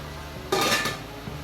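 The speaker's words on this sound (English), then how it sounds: "I'm going to put the lid on and let it boil for 10 minutes." A metal lid set onto a canning pot for boiling zucchini relish jars, one sharp clattering clank ringing briefly then fading, close and loud against a low steady hum.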